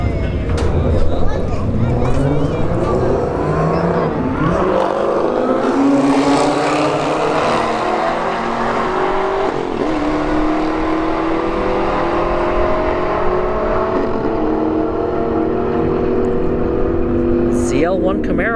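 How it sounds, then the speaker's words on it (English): An Audi and a ZL1 Camaro drag race at Bradenton Motorsports Park, loud engines droning and rising in pitch through several gear changes over a steady roar, while a commentator talks throughout. "An Audi versus the ZL1 Camaro in the right lane."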